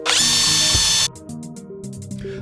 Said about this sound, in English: A bit of drilling and tapping.